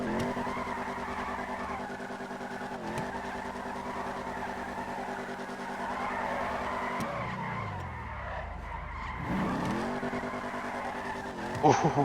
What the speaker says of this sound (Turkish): Yapabileceğimi zannetmiyordum da bir anda içgüdüyle 360 yapayım dedim